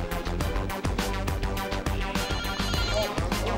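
A telephone rings with a repeating electronic ringtone pattern, loud and close, pulsing steadily over a rhythmic musical backing throughout.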